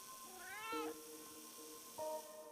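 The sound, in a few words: winged cat meowing in a video game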